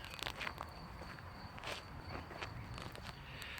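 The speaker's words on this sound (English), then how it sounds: "It's the sound of my feet on gravel," Soft footsteps crunch steadily on gravel at close range in a small forest, with a faint high insect chirping continuing in the background.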